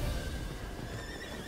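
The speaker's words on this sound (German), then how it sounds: "Oben, am Rande des Abhangs, dröhnten die Hufe der Verfolger." Pursuers' horses in a German audio drama, galloping hooves and neighing along a cliff edge above a ravine, steady and fairly faint with a whinny early on and continuous low rumble beneath.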